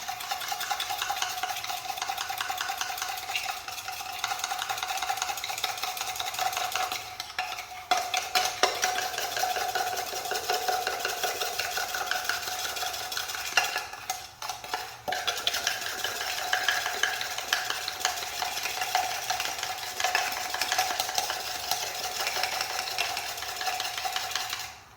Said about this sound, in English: So you add that to your brown sugar. Then you start stirring.